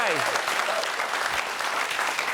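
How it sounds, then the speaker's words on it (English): Studio audience applauding a chef on a television cooking show, a brisk, continuous round of clapping with a presenter's voice speaking over the start. "round of applause for our chef there."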